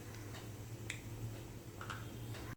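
Mustard seeds pop in hot oil for a Gujarati cabbage sambharo, giving a few scattered, faint crackles and sharp snaps over a quiet background hum.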